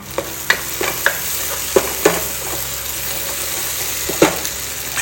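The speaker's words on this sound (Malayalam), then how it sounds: "ആവശ്യത്തിനുള്ള ഉപ്പ് ചേർത്ത് നന്നായിട്ട് തന്നെ ഇതിനെ വഴറ്റിയെടുക്കാം" Chicken curry being sautéed in a pan with salt, a continuous sizzle under sharp, irregular knocks and scrapes of a spoon against the pan, close up and without speech.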